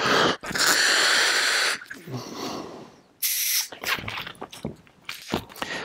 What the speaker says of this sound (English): Make sure you let some air out so they're soft.